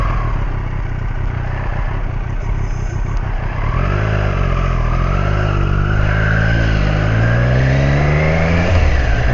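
A motorcycle engine idles and then revs up, its pitch rising and falling in sweeps, close and loud with steady background rumble.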